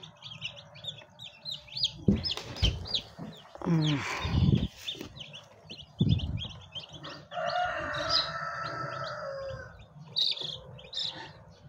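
Newly hatched Rhode Island Red, Black Australorp and brown chicks from a manual incubator give a constant stream of high, rapid peeps, with a person talking and handling noises breaking in over them.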